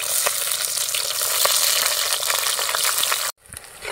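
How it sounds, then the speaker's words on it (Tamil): Onions and curry leaves sauté in a pan for a Kerala-style nadan chicken curry, giving a steady, loud sizzle with faint stirring clicks before a sudden cut near the end. "வெங்காயம் நல்லா வதங்கிடுச்சு"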